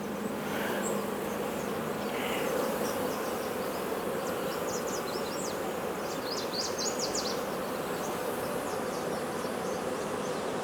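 Honeybees in a hive of around 50,000 give off a dense, continuous buzzing drone, loud and close, with the high whines of individual bees passing over it.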